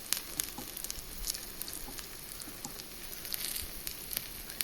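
Sweet rava appam batter sizzles in a pan after being flipped, a steady, fairly soft crackle with small pops throughout and no talking.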